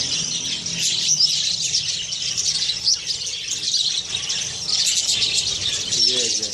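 A flock of budgies, many males courting a single female, chirps and chatters loudly and continuously close by, with dense overlapping tweets and squawks and a voice talking underneath.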